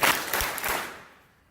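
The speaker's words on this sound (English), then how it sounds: "3 claps. Ready, set, go." Three quick claps from a live audience at a talk or workshop, sharp bursts close together that ring briefly and fade into room quiet.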